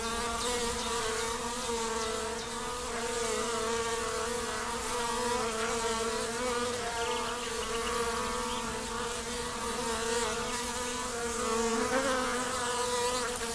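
Honeybees buzzing in a stretch of woodland, a dense, steady swarm drone with overlapping wingbeat hum from many insects, continuous and fairly quiet, no voices present.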